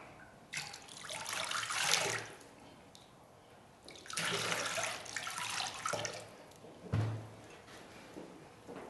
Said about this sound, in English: I'm going to rinse off my hands really quickly